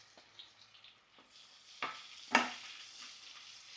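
Garlic and green chillies frying in oil in a pan for Kerala prawn pickle, a soft continuous sizzle with occasional louder stirring scrapes and a sharp burst near the middle, no voices.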